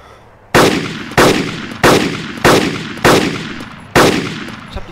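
Six loud gunshots fired one at a time at a steady pace in Arma 2, each a sharp crack with a long echoing decay, no voices.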